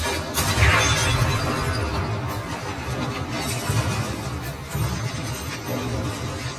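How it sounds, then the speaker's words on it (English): Two suppressed pistol shots strike a propane cylinder in the Hitman game, setting off a loud shattering blast followed by a sustained crashing rumble of debris that fills the whole stretch, with no talking. "we're going to take two shots at the propane cylinder"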